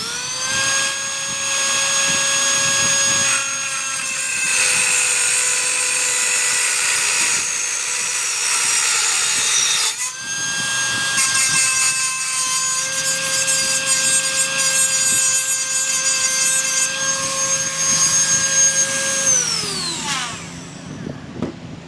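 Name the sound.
cutting off a driveshaft tube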